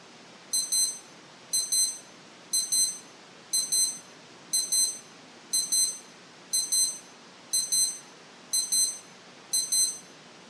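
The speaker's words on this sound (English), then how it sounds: "at midnight, the alarm on the watch started going off" An old digital watch alarm beeps in regular bursts of rapid high chirps, repeating about ten times at an even pace, faint but clear over quiet background hiss in a funeral home at night.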